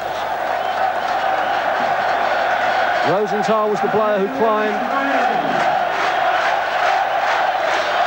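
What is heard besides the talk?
packed football crowd cheering in Tel Aviv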